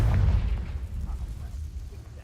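In Hogwarts Legacy, a Confringo spell bursts in a deep, rumbling explosion that hits hard at first, then rolls away into a fading low boom over about two seconds.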